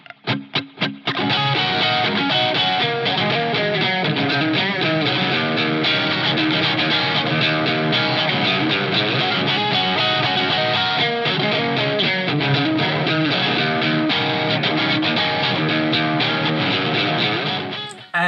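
A funky electric guitar runs through a Friedman BE-OD overdrive pedal, playing dense, choppy rhythmic strumming. It is driven, loud and continuous for about seventeen seconds, with no talking.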